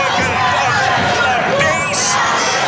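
Wrestling arena crowd cheering behind a wrestler, a steady loud roar of voices and whoops with a rising burst near the two-second mark, filling the whole space.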